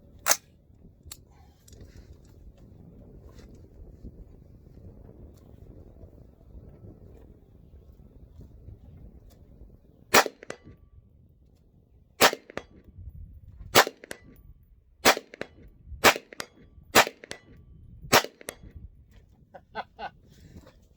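Rifle shots ring out from a tripod-mounted rifle aimed at steel targets 100 yards away: a couple of sharp cracks early on, then a long quiet stretch, then a rapid string of about nine loud, crisp reports.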